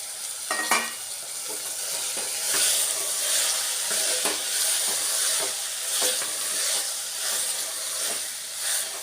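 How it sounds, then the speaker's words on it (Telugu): Cluster beans being stirred in a pressure cooker for curry, a steady sizzling hiss with scraping stir strokes throughout, close and fairly loud with no talking. "ఇలా వేసుకొని కలుపుకున్నాక మూత పెట్టుకొని ఒక 3 నిమిషాల పాటు ఉడికించుకోవాలి."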